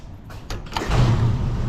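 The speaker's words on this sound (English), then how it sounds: "Get this door shut." A few quick knocks and a thud as the door of a 2023 Ford F600 snow plow truck is pushed shut, followed by low rumbling.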